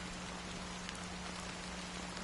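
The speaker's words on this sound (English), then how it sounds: "how long has this rain been going on for?" Steady rain pours in the video game Honkai: Star Rail, an even, dense patter that stays constant and fills the whole short stretch with no voices.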